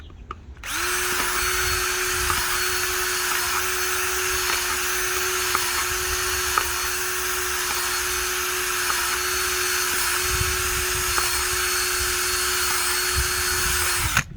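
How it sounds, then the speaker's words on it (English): A power drill runs continuously at a steady high pitch for over ten seconds, close up, with faint clicks of the bit drilling holes in a plastic box. "So you just drill the holes."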